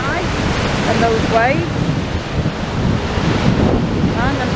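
Stormy sea waves surge against the promenade under strong gusting wind, a loud continuous roar with heavy wind buffeting the microphone throughout.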